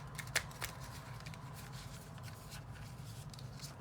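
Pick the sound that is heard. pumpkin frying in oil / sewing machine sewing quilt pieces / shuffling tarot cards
shuffling tarot cards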